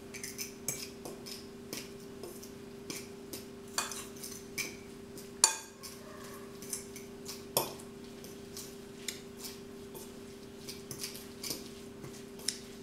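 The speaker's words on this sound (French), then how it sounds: "Ajoutez l'œuf et avec une fourchette, remuez." A fork stirring an egg into dough in a bowl, giving soft, irregular clicks and scrapes against the dish, quiet and close over a low steady hum, with no speech.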